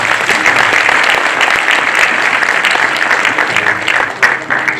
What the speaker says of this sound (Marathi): पण मला मात्र आपल्याकडनं फक्त जोरात टाळ्यांचा आवाज पाहिजे